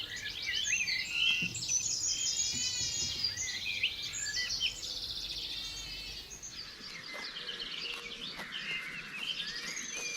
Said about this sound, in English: Birds chirp softly in the hedgerows.